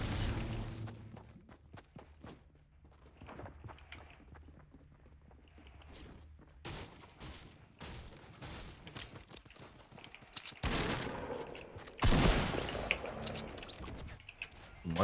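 Gunfire in a Fortnite Battle Royale match: scattered shots and booms with footsteps at first, building to dense, loud bursts of rapid fire near the end.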